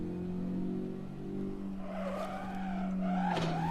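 A race car in Assetto Corsa loses rear grip, its engine droning steadily before the tires break into a rising, wavering squeal and skid, close and loud.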